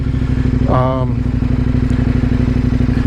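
A high-compression motorcycle engine, run on premium fuel, chugs in a steady low rhythm while it turns over. It is loud and close, with a brief rising whine partway through.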